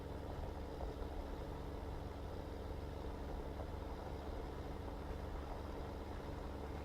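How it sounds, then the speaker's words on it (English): Steady engine drone of a large tractor in Farming Simulator 15, a continuous low idling rumble held at even, moderate loudness with no talk. "This is the biggest tractor I have."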